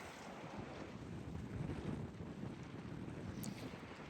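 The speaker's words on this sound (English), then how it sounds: "it's kind of windy" Wind blows across a lake, buffeting the microphone in low, rumbling gusts that rise and fall quietly, with no one talking.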